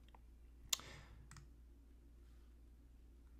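Computer mouse clicks while drawing an office room sketch in appraisal software, a sharp click near the start and a second softer one shortly after, then quiet room hum.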